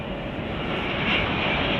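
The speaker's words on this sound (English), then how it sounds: "On an Airbus A320." An Airbus A320 airliner arriving at Chicago O'Hare gives a steady, fairly close broadband engine roar that swells slightly over the short stretch, with no talking.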